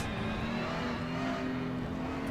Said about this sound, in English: he's keeping the revs really low, if you notice, ladies and gentlemen, if you're listening to the car